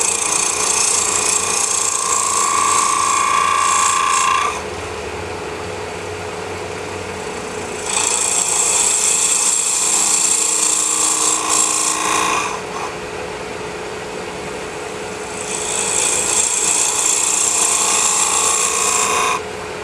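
A power tool cuts cocobolo wood from the center out to form a small 1/8-inch cavity, whining loud and close in three bursts with short lower-pitched lulls between them.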